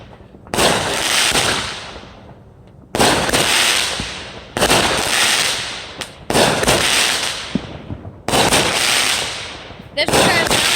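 A 96-shot fireworks cake fires in sharp, loud bursts, each crack followed by crackling decay, coming in several rapid clusters with short gaps between them, close by and outdoors.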